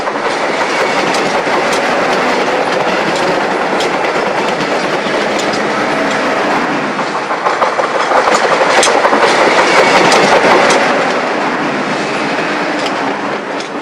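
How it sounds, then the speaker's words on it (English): An inbound Long Island Rail Road express hauled by an ALCo locomotive pulling former New York Central cars passes Hollis, loud and close, with steady wheel roar and rhythmic clickety-clack of rail joints building toward the end. "This inbound express is passing Hollis."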